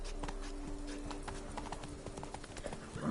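Roach the horse gallops in The Witcher 3: Blood and Wine, a quick run of close hoofbeats over a steady background ambience.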